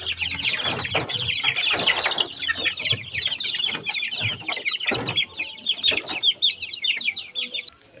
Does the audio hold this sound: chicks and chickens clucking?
yes